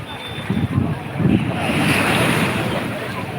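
Ocean waves wash onto the beach at Rameswaram, a loud steady surf roar with rolling surges, mixed with wind buffeting the microphone.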